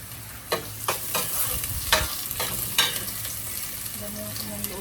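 Garlic and ginger sizzle in a pan while a utensil stirs and scrapes close by, with soft irregular clatters over a steady fry, ending in a faint tonal hum.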